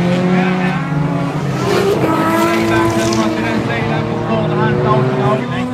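Junior rallycross race cars at a final, engines roaring loud and close with rising and falling revs and a tire squeal, steady throughout, with a commentator's voice partly under the engine noise.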